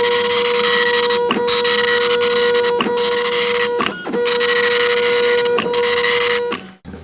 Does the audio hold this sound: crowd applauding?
no